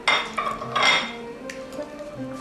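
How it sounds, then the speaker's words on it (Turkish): A spoon clinks and scrapes around a bowl while two spoonfuls of yogurt are mixed with half a pack of softened butter, with a couple of louder strokes at first and then quieter scraping. "Pürüzsüz bir kıvam alana kadar karıştıracağız"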